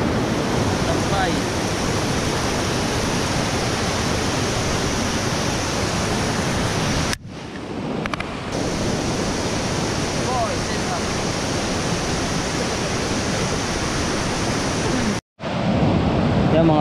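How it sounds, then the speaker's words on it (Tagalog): Hagdan Falls, a waterfall in a rural barangay, pours in a steady, loud, broadband roar that fills the whole span, briefly dipping twice as if the microphone is covered, with no clear talk over it. "yung napakagandang Hagdan Falls dito sa barangay Balay-Balay"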